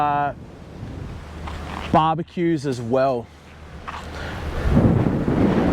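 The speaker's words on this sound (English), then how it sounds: "you can tell it is windy as, so I'm hoping this mic's doing the trick" Steady wind rumble and buffeting across the microphone at a boat ramp on the Sunshine Coast, Queensland, with a person talking briefly partway through.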